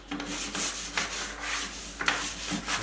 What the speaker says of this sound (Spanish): voy a hacer el mismo proceso, lijar, lijar